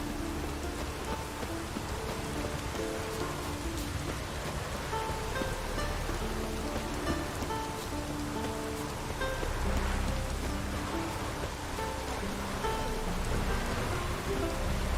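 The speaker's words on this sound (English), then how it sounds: "Looks like rain." Steady, dense rainfall in The Witcher 3: Wild Hunt, a continuous close hiss of drops on surfaces that runs unbroken for the whole stretch with no voices.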